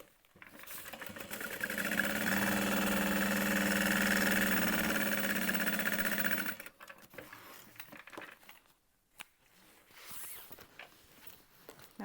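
A home sewing machine basting the side of a backpack, a steady whirring run of stitching for about six seconds, then stopping, followed by fabric handling and small rustles.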